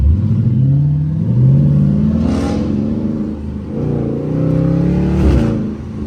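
Loud engine rumble from a nearby car on the street, revving up and down with rising and falling pitch and two sharp pops standing out, consistent with a Dodge Hellcat heard alongside a Charger RT.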